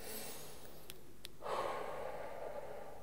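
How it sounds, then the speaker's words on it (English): A single deep breath drawn in during a meditation exercise, quiet and close, with a couple of faint sniffs before a steady airy inhale that lasts over a second and a half. "do some deep breathing, you know, where you just breathe in"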